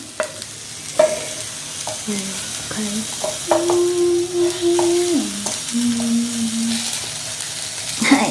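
Seasoning sizzling in a pan for a curry, with stirring and scraping clatter, steady frying hiss throughout with occasional utensil knocks.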